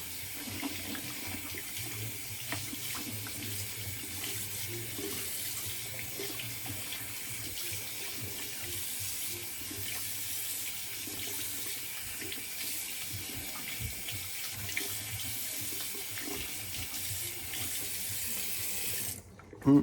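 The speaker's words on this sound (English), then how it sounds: "I'll finish with a cold water rinse." Tap water running into a sink for a cold water rinse after a wet shave, a continuous, fairly quiet hiss and splash with no talking, ending in a brief sharp knock.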